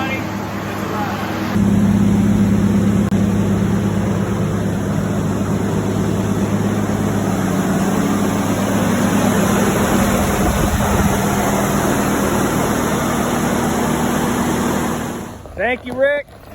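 Freshly installed 4.7L stroker V8 in a Jeep Wrangler idling steadily after startup, a continuous close rumble for most of the stretch before cutting off near the end, with brief voices breaking in as it stops.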